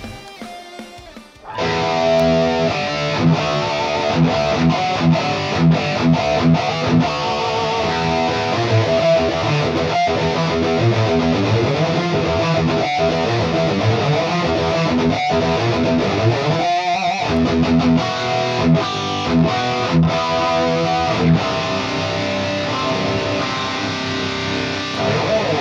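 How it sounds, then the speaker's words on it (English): Distorted electric guitar played through an Axe-Fx FM3 with an enhancer block for wide stereo, a loud, dense riff ringing out continuously on its own. "the way I get my guitar wide is by simply using the enhancer block"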